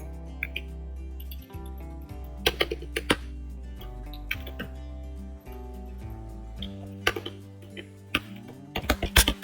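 Irregular, scattered keyboard clicks tap away while programming a PIC16F877A microcontroller, over steady background music, no voices.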